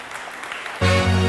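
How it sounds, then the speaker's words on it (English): Applause breaks out about halfway through as panel guests are invited onto the stage at a Singapore conference: a sudden, loud burst of crowd clapping that continues steadily, with a sustained musical tone underneath. "So a round of applause for our"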